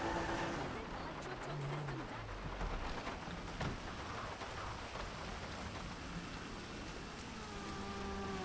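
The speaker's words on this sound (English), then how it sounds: "Oh, thunderstorm." Thunderstorm rain pours in the video game Grand Theft Auto V, a constant dense hiss of drops on surfaces that fills the whole stretch, with faint game tones underneath.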